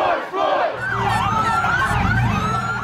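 Police and protesters clash at a street protest in Dallas: a crowd shouts and yells continuously while wailing emergency sirens rise and fall through the noise, loud and close.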